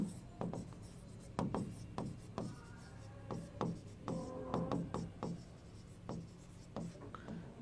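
Marker or chalk writes on a board in a chemistry class, giving close scratchy strokes and taps in irregular bursts. Faint background noise sits underneath, and there is no clear talking.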